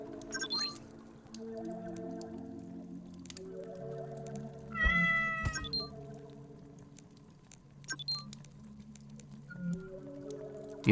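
Cats meow repeatedly in the cosmic horror dungeon crawler The Great Abyss, with several drawn-out, wavering cries and a sharper burst midway, layered over low ambient game music and without speech.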